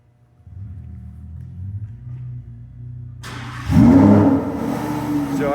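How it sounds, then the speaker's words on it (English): A Lamborghini's engine turns over with a low cranking grind, then catches and fires into a loud, rumbling exhaust roar that settles into a deep, strong idle close by. "as you can hear by that really loud and beautiful exhaust, the vehicle starts right up"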